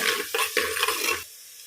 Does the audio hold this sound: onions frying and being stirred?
yes